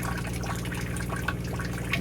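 Permeate water from a maple sap concentrator runs in a steady, close, trickling stream, with a continuous liquid splash and no voices.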